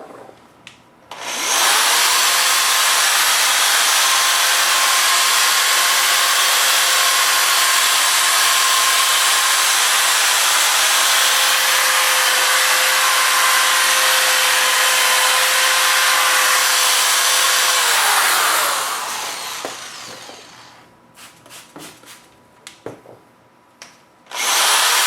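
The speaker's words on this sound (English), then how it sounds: "we just want to keep everything completely wet while we're sanding" A power sander wet-sands a car headlight lens, running steadily and loud for about seventeen seconds before winding down, followed by faint handling noises and a brief restart at the end.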